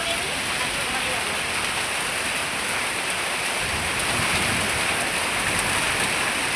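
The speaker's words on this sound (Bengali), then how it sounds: "বৃষ্টি শুরু।" Steady rain falls outdoors near a cooking spot, a dense, even hiss that stays loud and unbroken from start to finish.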